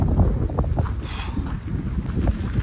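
Strong wind buffets the microphone at a viewpoint over Manchanabele Dam, a continuous low roaring rumble up close with no voices.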